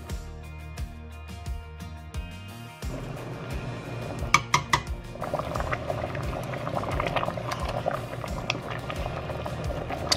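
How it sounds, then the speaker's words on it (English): Baked potato soup simmers in a pot, giving a steady soft bubbling that turns busier and more vigorous after a few seconds, with a couple of light clinks against the pot. "This has been simmering away and the potatoes are very tender."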